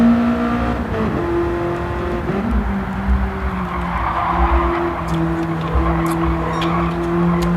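Race car engine in a sim racing game, a GT car in an online championship round, revving and shifting through a left-hand corner with brief tyre squeal as the rear steps out, loud and continuous with no talk.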